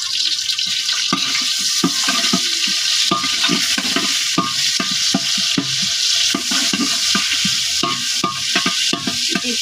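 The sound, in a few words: onion frying in oil in a pot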